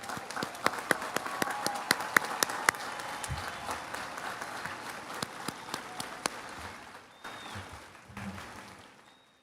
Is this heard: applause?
yes